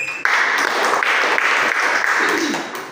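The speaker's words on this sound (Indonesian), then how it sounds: "Kita berikan tepuk tangan kepada Ibu Arlin." A room of teachers breaks into warm applause for a colleague, a dense, steady patter of clapping that carries on for a few seconds before easing off.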